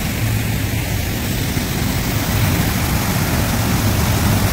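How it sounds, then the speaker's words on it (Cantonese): A steady, loud roar of rushing water, like a waterfall close by, filling the whole clip without a break and with no voices. "震撼嘅聲音啊，瀑布啊，"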